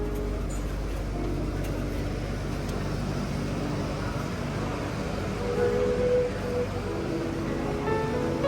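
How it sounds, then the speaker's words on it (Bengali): A train pulls in at a Bangkok station platform where people wait in line, giving a steady, loud low rumble that swells slightly near the end, with a thin squealing tone. "এখন ট্রেন এসে গেছে, ট্রেনে আমরা উঠবো।"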